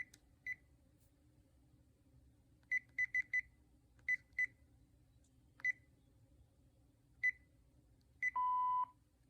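Panasonic KX-TG2583S 2.4GHz cordless phone sounding short electronic ring bursts, single and in quick triplets, spread irregularly over quiet background, ending with a longer steady tone.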